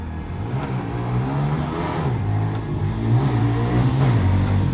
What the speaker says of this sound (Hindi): ये जी उमर मेरी बाइक चेक करते हुए।